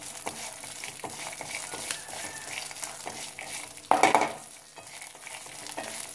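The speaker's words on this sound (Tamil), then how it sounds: "இந்த எண்ணெயிலே வறுத்துக்கலாம்." Black and white sesame seeds roasting in oil in a pan, a steady soft sizzle with scattered stirring scrapes and a brief louder clatter near the middle.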